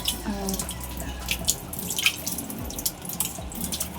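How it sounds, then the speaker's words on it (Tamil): Running water splashes and drips close by while mutton is rinsed by hand, with irregular sloshing and small splatters. "வலிச்சிட்டு தண்ணி வச்சு இதை வச்சு இப்படி கழுவணும்."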